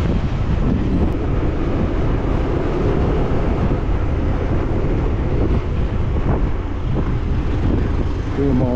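Continuous heavy wind buffeting the microphone, a low rumbling roar that stays loud and unbroken throughout.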